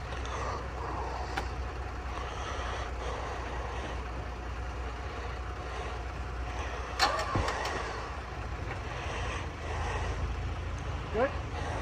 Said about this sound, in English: Hey Kyle, will you jump in my truck and just put it in reverse with your foot on the brake?